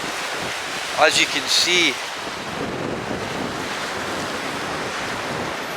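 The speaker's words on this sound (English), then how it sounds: "it's quite choppy, quite big waves coming in, smashing on these rocks out here" Big, choppy waves smash on rocks by a coastal campsite. The surf makes a constant close roar mixed with gusting wind noise on the microphone, and someone speaks briefly near the start.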